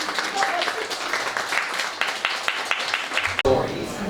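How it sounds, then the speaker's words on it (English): Applause from an audience at a comics festival talk, scattered clapping that comes and goes, mixed with voices talking over it, with a brief break near the end. "I think we might open it up for some round of applause"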